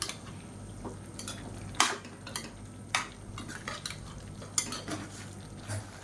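A spoon scrapes and clinks against a pan as chicken sukka is stirred with roasted spice powder, quiet irregular knocks over a faint sizzle.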